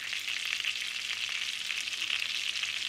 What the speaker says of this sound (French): les déposer sur une poêle avec de l'huile chaude. Je laisse dorer de chaque côté